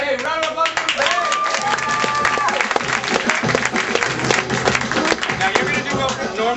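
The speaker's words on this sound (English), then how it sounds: "round of applause for Babe" Studio audience claps and cheers loudly for a contestant on a same-sex dating game comedy show, a dense steady burst of applause lasting several seconds with crowd noise mixed in.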